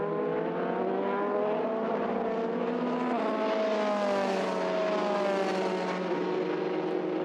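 British F3 single-seater race cars at Silverstone scream past at high revs, one engine note rising and falling with gear changes as the cars pass close by, loud and sustained, with no talking.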